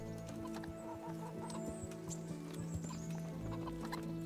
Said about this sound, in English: I'll punch your chicken.